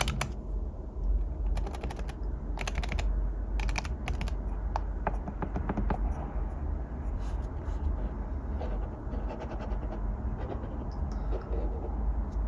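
Buttons on a Blackmagic Design Micro Color Panel being pressed, making quick bursts of crisp plastic clicks in small clusters near the start and then sparser taps, close and fairly loud, with no talking.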